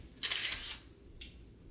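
A Konica film camera shutter fires with a crisp mechanical snap and brief whir, followed by a second, softer click, heard close up in a quiet room.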